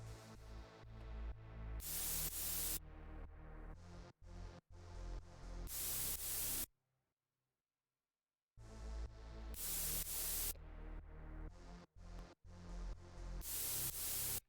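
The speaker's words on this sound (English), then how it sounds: "this white noise lead here, white noise layer. You can hear it rattling." Bursts of harsh white noise layered over a synth pattern, pulsing in rhythmic blocks with a short silent gap in the middle.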